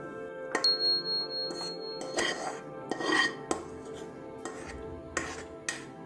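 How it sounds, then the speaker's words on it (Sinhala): Cooked chicken and potato curry with a little gravy being moved into another pot, with metal spoon scrapes, clinks and pot knocks coming in irregular bursts, close by and moderately loud. "මේ ආකාරයට මම චිකන් ටික වෙනත් භාජනයකට දමා ගන්නවා."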